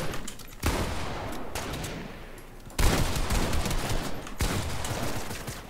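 Rapid bursts of automatic gunfire in Fortnite, loud and close, with dense rattling volleys that cut in and out in several long stretches.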